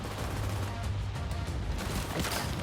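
Steady rapid gunfire in Division 2, loud and continuous, forming a dense wash of shots with no talk.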